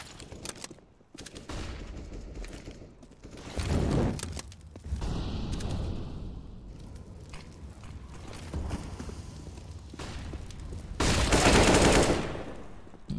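Rapid bursts of auto sniper fire ring out in a Counter-Strike match on the Nuke map, loud cracking volleys separated by footsteps and mechanical clatter, with no talk.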